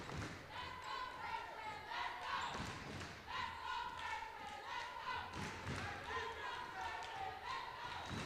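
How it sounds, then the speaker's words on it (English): Crowd noise fills the gym at a high school boys' basketball game between Churchland and Great Bridge, murmuring faintly under a close commentator's voice, with scattered thuds of the ball bouncing on the court. "As you can hear the crowd noise behind me."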